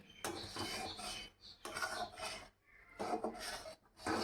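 A milk mixture for modak is stirred in a pan, heard as close, raspy scraping strokes in three or four bursts separated by short pauses, with no talking.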